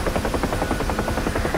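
A UH-1H helicopter in the DCS flight simulator gives a steady, loud rotor thump with a rhythmic pulsing beat and a constant engine whine underneath, heard alone.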